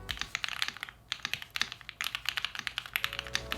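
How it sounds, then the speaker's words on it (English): Fingers type on a premium pre-built mechanical keyboard with a metal and acrylic case, a quick uneven run of crisp clacking keystrokes, close and fairly quiet, with short pauses between bursts. "It's a pre-built keyboard that feels and looks premium and very satisfying to type on."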